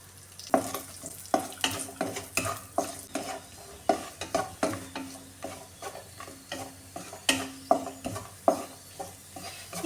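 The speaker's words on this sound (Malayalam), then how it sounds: "ഇനി ഈ മുന്തിരിയും കൂടെ ഇട്ട് കൊടുക്കാമേ." Raisins and cashews fry in Milma ghee for vermicelli payasam, with a steady sizzle under regular, rhythmic stirring strokes that clack against the pan roughly every half second, close and fairly loud.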